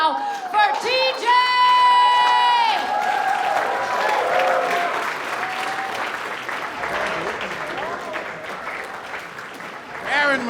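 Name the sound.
audience applause and cheering for a comedian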